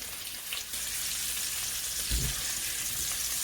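Oxtail browning in a frying pan for a stew, giving a steady close sizzle throughout with one brief low thump partway through.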